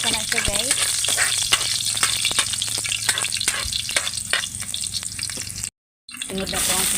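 Garlic sautéing in a hot pan, a loud continuous sizzle with frequent stirring clicks and scrapes, close up, cut by a brief moment of silence near the end.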